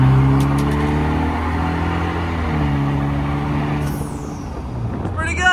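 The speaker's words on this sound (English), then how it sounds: "let's see how the acceleration is in the Vanderhall here." A Vanderhall three-wheeler accelerates, its engine note climbing steadily through rising tones, loud and close from the cabin, with a brief voice near the end.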